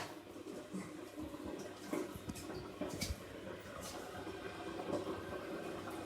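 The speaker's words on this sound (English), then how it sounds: "I'm just letting the water go now." Water drains through a partially blocked sink drain, a low gurgling trickle with irregular bubbly glugs and occasional sharper splashes, close and fairly quiet.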